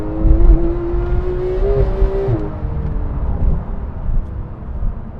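A Porsche 991 911 GT3 flat-six engine revs up toward 9,000 RPM, a rising mechanical howl that peaks and then falls away, leaving a rumbling low background of road or wind noise.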